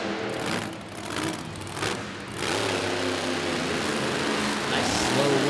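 Mad Mike Hawkins drives the Hurricane monster truck out into the Rupp Arena, its engine a close, rough roar that swells and steadies, with a voice talking over it.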